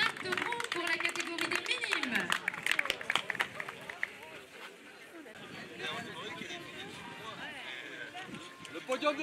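A crowd applauds at the podium ceremony of a 2015 electric-bike race in Auron, with steady clapping under a loud announcer who talks throughout.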